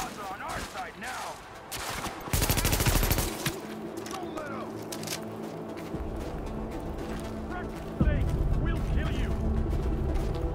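Gunfire aimed at supplies in Tom Clancy's The Division: sustained bursts of automatic shots and steady mechanical clatter, heard through busy game ambience while a voice speaks over part of the action.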